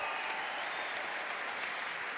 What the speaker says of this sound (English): can we give a round of applause to the current Stanford women's basketball team